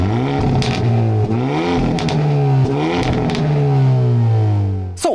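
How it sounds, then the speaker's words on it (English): A 2022 Hyundai Elantra N engine revs up and down repeatedly in Sport Plus exhaust mode, a deep, loud sporty note rising and falling in pitch, ending with a sharp crackle. "this is Sport Plus, sort of the highest level of performance from the exhaust sound"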